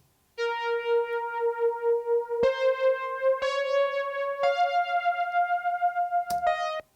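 A clean, unprocessed Prophet 5 lead synth plays a slow melody of sustained, bright harmonic tones that step up in pitch across several held notes, alone and at moderate level.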